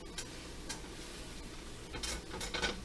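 Bread frying in oil in a pot, a soft, continuous sizzle with a few light clinks of a utensil against the pot, faint and close, no talking.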